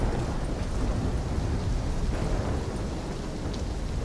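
Thunderstorm ambience in the Call of Duty: Black Ops III campaign, a steady loud roar of rain and low rumbling thunder running without a break, with no voices.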